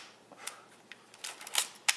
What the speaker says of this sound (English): So it's a horizontal shutter